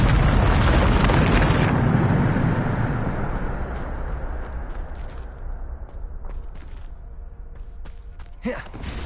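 A Bombarda spell blast in Hogwarts Legacy erupts as a loud, deep roaring explosion that rumbles for about two seconds, then decays into a long crackling, debris-filled tail with small scattered impacts and a sharp thud near the end.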